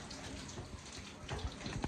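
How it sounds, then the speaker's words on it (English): Hotel shower running with strong water pressure at a Comfort Inn near Cedar Point, a steady close hiss of spraying water with faint splashes and no talking. "Doesn't look like we're having any problems here. Good water pressure."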